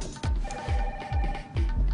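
A telephone rings in bursts of bright, rattling bell tones, four rings in quick succession, loud and close with short gaps between them.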